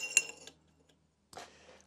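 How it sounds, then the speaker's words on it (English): A metal washer drops onto a motorcycle headstock bearing race, giving a sharp metallic clink, a brief ring-off, then a second softer clatter a moment later in a quiet setting. "I'm going to drop a washer down on top of it."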